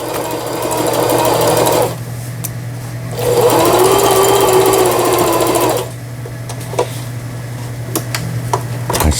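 A Jaguar home sewing machine runs in bursts as it stitches fabric, a rapid whirring drone that starts and stops, with quieter pauses and faint handling clicks in between, close up and with no talk.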